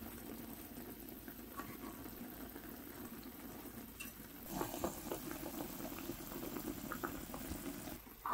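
Chicken adobo simmering in vinegar in a pot, a steady soft bubbling and sizzle that grows a little busier partway through, with no talk.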